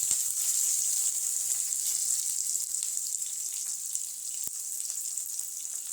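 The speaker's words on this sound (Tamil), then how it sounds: "எல்லாம் பொரிஞ்சது பின்னாடி சின்ன வெங்காயம் சேர்த்துக்கிறேன்" Small shallots dropped into hot oil already spluttering with mustard seeds, cumin and fenugreek, giving a bright, dense, continuous sizzle that stays close and even, with one brief tap of a utensil and no speech.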